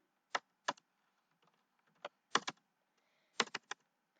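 Keystrokes on a computer keyboard while entering HTML code, arriving in short bursts of two or three clicks separated by quiet pauses, close and fairly crisp with no talking.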